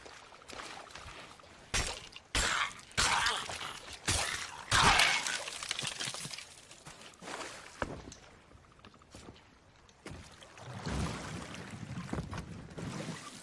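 Rowboat in the pirate video game Sea of Thieves, with oars splashing and water sloshing in surging strokes, loud and close, alongside game ambience and no talk.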